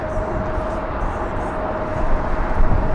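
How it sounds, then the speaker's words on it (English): Broadband jet rumble from a SkyWest Embraer E175 departing LAX, a steady roar that swells slightly toward the end, heard from a distance with no speech. "SkyWest, this one taking the scenic route all the way to the north for departure"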